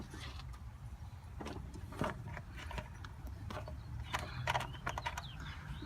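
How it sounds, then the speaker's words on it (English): Four 10mm engine cover bolts come out of a 2006 Infiniti G35 coupe with scattered close metallic clicks and ratchet rattles, some sharp taps standing out against a faint background hum. "just 4 10mm bolts. I've already loosened these up, so just take them out."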